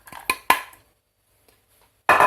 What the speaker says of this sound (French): Les légumes sont coupés en petits morceaux. Je vais rajouter donc dans la cocotte.